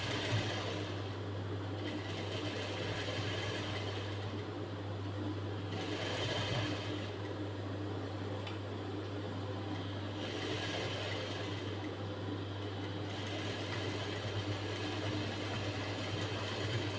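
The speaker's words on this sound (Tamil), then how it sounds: "ஸ்லோவாகவே தைங்க. துணியை பிடிச்சி இழுக்காம" A sewing machine stitches the back panel of a blouse, a steady close motor hum with a rapid needle chatter that pauses briefly every few seconds as the fabric is turned and guided.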